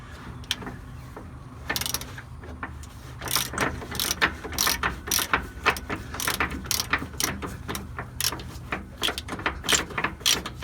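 A hand ratchet works the front shock bolts on a Kenworth T660 truck, clicking in quick uneven bursts of sharp pawl ticks that grow denser and louder partway through, with some clanks of metal between strokes.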